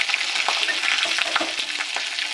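Chopped garlic and capsicum frying in a pan for a dal chilli curry, a steady bright sizzle with soft stirring scrapes, close and without talk.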